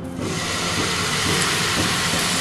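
Carrot paste drops into hot ghee in a wok, bursting into a loud, steady sizzle and hiss that continues close up for a couple of seconds.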